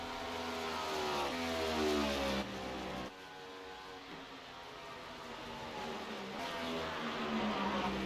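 A race car engine in the iRacing simulator at Pocono screams at high revs, with abrupt drops in pitch as it shifts down, loud and continuous for several seconds with no talking.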